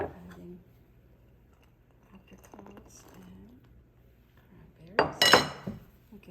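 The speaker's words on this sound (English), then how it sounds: "So I'm mixing that, adding apricots" Batter for chocolate apricot cranberry squares being mixed in a bowl, with soft scraping and clinks of a utensil against dishes, ending in a louder burst of clattering near the end.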